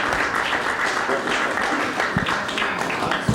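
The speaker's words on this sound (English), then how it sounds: "Another round of applause," An audience at a lightning talks event claps in a steady, even burst of applause that holds at constant loudness throughout, with a faint murmur of voices underneath.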